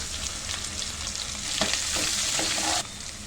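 Chopped onions sizzle in hot oil with cumin and mustard seeds in the same pan used earlier for frying okra, a steady frying hiss with a few stirring scrapes before the sound drops near the end.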